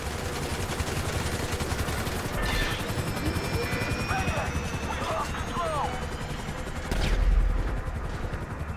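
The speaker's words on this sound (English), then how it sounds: "We ain't going nowhere with that chopper on us." Helicopter rotor thrum and bursts of gunfire in the video game GTA V, a steady, loud roar throughout with voices talking over it and a louder surge near the end.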